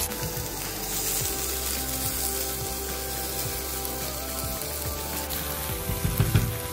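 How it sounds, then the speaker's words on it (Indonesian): Chili paste stir-fried in hot oil with lemongrass, a steady close sizzle and crackle with occasional scraping stirs, no talking. "kita tumiskan cili."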